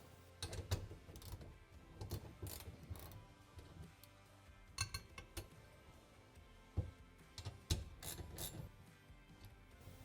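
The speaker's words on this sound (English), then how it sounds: "then tighten those bolts down" A hand ratchet with a 10mm socket tightens bracket bolts from a Tusk upgrade kit on a Kawasaki Teryx4 800 UTV, quiet bursts of rapid clicking separated by brief pauses.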